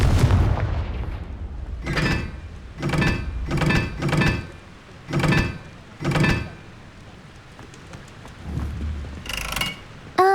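Confringo fire-blast spell cast over and over in the video game Hogwarts Legacy: a quick run of about six sharp, crackling bursts at a steady pace, then a pause, a low rumble and one final burst, with no talking.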